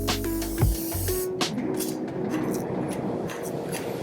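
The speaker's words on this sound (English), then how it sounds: "We're going to spray our steaks." Cooking spray hisses from an aerosol can onto raw steaks, with a broadband spurt near the start followed by a sizzling, hissing texture that carries through the rest.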